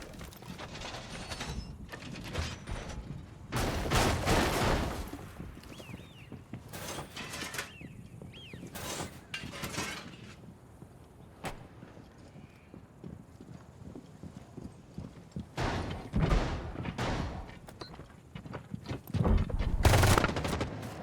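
An R4C assault rifle fires in Rainbow Six Siege: several intermittent bursts of shots spread over the stretch against a steady background of game noise.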